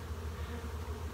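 Honey bees swarm around an open hive on a hot day while honey supers are added, producing a dense, steady droning buzz up close.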